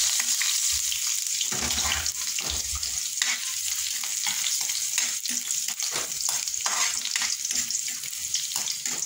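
Ginger sautéing in a pot as the first step of chicken tinola, a steady loud sizzle with scraping stir strokes and brief clatters throughout, no talking.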